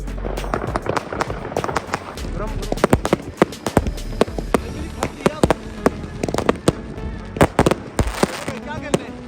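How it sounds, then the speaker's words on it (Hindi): New Year's Eve fireworks in Germany, with many sharp firecracker bangs and pops in quick, irregular bursts, some close and loud, others farther off, under crackling and outdoor voices. "बिल्कुल, किसी ने भी एक्सपेक्ट नहीं किया यार इतने अच्छे फायर वर्क्स"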